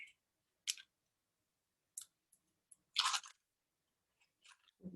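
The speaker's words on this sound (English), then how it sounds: "Let's see if we can break the tape on here." Tape being torn and pried off a taped-up cardboard box holding silver charms, heard as a few short, sharp ripping and crackling bursts with quiet gaps between them, the loudest near the middle, close by and without talk.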